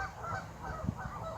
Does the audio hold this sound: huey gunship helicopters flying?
no